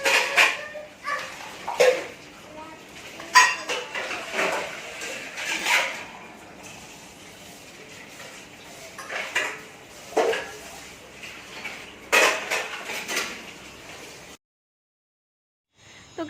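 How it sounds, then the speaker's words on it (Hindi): Dishes, pots and utensils clink and clatter intermittently in a home kitchen during morning chores, with scattered sharp knocks over a low background hum, followed by a brief silence near the end. "तो किचन में बर्तन साफ़ करेंगे।"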